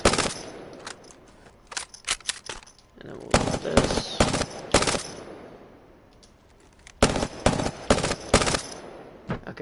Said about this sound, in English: We're gonna grab another Prowler. No attachments. We're gonna empty the mag.